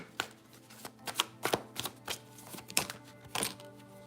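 Tarot cards shuffled by hand during a zodiac reading, heard as a run of soft, irregular snaps and riffles spread over several seconds, quiet and close, with no talking.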